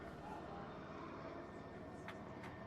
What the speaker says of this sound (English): My apologies, that's a helicopter.